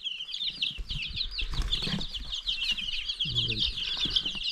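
Baby chicks and ducklings peep continuously in a dense, high chorus close by, with a brief burst of low talk partway through.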